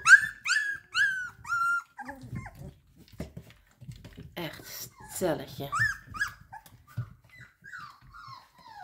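Three-week-old puppies whimper, yip and growl while jostling over food, a litter of high squeaky cries up close, with adults speaking Dutch now and then.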